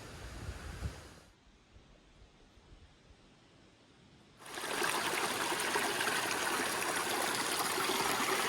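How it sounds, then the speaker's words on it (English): A stream of flowing water rushes in a steady wash, softening for a few seconds and then swelling to a louder, close, continuous roar. "I'm gonna try crossing the stream right here and go on to the other side."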